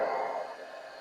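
Steady airy whoosh of a heat tool blowing over watercolor paper, close and continuous, strongest at the start and easing slightly toward the end.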